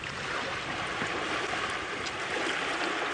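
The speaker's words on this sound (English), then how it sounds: "They're causing waves to lap up on the shore of this waterhole" Swimming elephants push waves that lap continuously against the shore of an African waterhole, a steady, washing splash of water that stays even and moderately loud throughout.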